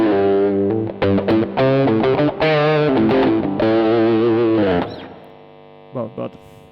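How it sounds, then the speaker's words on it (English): A distorted electric guitar, a Coura Guitars Malindi 1 on its bridge P90 pickup, plays loud, sustained chords and notes with a bright, gritty edge, then fades out, followed by a couple of short plucked notes. "the bridge P90 likes treble boosters and distortion."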